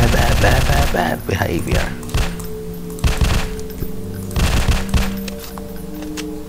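Rapid gunfire bursts from the horror video game Slendrina Must Die: The Asylum, loud and close, firing in several clusters while someone speaks briefly at the start.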